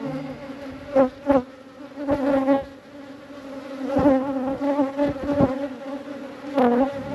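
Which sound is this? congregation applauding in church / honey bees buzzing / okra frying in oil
honey bees buzzing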